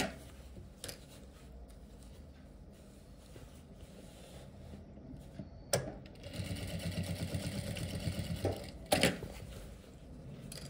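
Sewing machine stitching a formal pant, sewing down tucked belt loops at a half-inch gap: a low mechanical hum that swells into a steady, rapid stitching burst in the latter half, with a few sharp clicks along the way.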